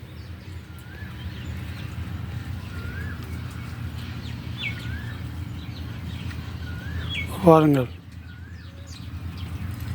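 Small birds chirp and call in short, repeated notes around a water spot at a hermitage hut, while someone talks steadily over them and a brief, louder rising call stands out near the end.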